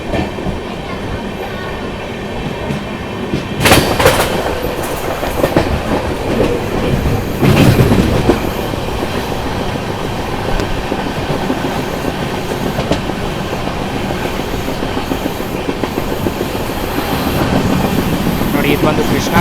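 The Bangalore to Pondicherry train 16573 runs on rails with a loud, continuous rumble and clickety-clack close by, with heavier bursts of noise as it passes over points and junctions.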